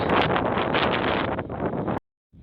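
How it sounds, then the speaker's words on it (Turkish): Strong wind buffets the microphone outdoors in a village, a loud broadband roar for about two seconds before cutting off abruptly, then returning faintly. "Acayip rüzgarı."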